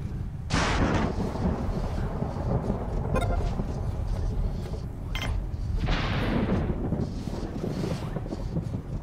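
Thunder rumbling from lightning during a storm in the video game Planetbase, two loud broad rolling crashes over steady windy rain-like noise, the second building near the end.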